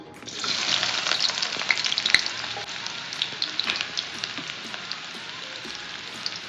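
A large chopped onion dropped into hot oil for an egg masala, bursting into a loud bright sizzle that settles into a steady close crackle with scattered pops.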